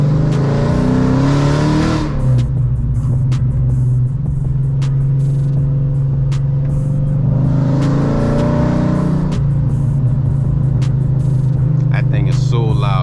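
A 5.7 Hemi V8 engine revs loudly up close on the street. Deep, steady rumbling idles between two sharp throttle blips that rise and fall, one at the start and another about nine seconds in.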